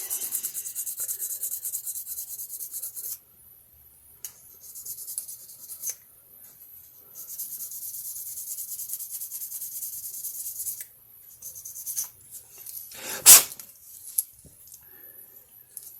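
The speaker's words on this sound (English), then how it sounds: "It's kind of nice to be able to just sand and not to be really worried about the surfaces and stuff." Hand sanding the plastic body of an Aurora T-Jet slot car, a Buggy being cut into a chopped-top coupe, produces close, raspy strokes in long bursts with pauses and one sharp scrape near the end.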